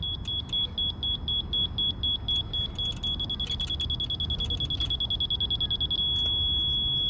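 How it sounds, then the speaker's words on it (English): A laser level indicator receiver at an outdoor metal carport build gives a rapid pulsing beep that settles into a steady solid tone, heard over a low idling engine rumble. "All right, you see that steady beep right there? The solid beep."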